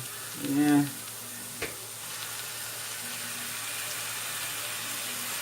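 Sofrito drops into a hot pan with a short burst of sizzling, then a light hand-tool clink, and a steady low frying hiss carries on quietly to the end.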